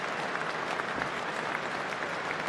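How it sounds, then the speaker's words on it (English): Sustained applause from a cricket crowd at Lord's, dense and steady clapping filling the stands for the whole stretch as a batter is cheered. "Wonderful reception from the crowd here at Lord's."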